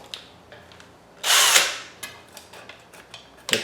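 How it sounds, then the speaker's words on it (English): A power drill spins a roll of cloth sandpaper inside the wooden barrel of a Native American style flute, giving one loud, harsh whirring burst of about a second amid quieter clicks and handling noises. "Then I take my drill,"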